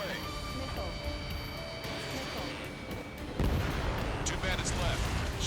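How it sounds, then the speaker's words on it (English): Missile launch and explosions in the aerial combat game Ace Combat 7, a dense roaring wash of jet and weapon noise with a heavy blast surge near the end, under radio voice chatter. "Missile away."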